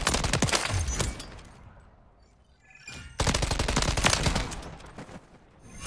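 Rapid automatic fire from the TAQ Eradicator in Call of Duty Modern Warfare 3, loud dense bursts of gunshots separated by a quieter gap, alone without talk.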